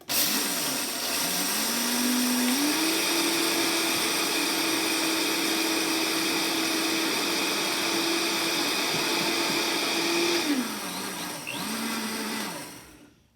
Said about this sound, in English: We really like this grain grinder.